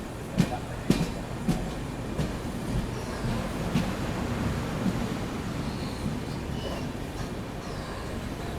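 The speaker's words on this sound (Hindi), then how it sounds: "तो अपनी स्पेशल ट्रेन ने एक और ओवरटेक कर दिया इस जर्नी में" A special nonstop train from Jaipur to Mumbai running along the rails, a low steady rumble with occasional sharp clanks and knocks from the wheels and couplings, fairly faint throughout.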